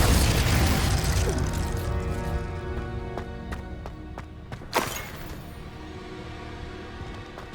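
A Confringo fire spell blasts in the Hogwarts Legacy game, a loud bursting explosion at the start that fades into a ringing tail, followed by a few sharp clicks and one more sudden pop.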